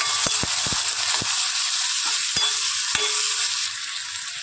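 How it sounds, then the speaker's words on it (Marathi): Finely chopped onions sauté with green chillies and asafoetida in a pan for a broad bean bhaji, a steady sizzle under sharp clinks of a stirring spoon that fade slightly near the end. "तीन कांदे घेतलेले आहेत बारीक चिरून घेतलेले ते टाकून घेते चांगलं परतून घ्यायचं आहे"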